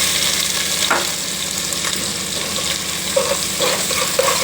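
Two large finely chopped onions frying in oil with cumin seeds for egg pulusu, a dense continuous sizzle close up with a few louder spits and scrapes.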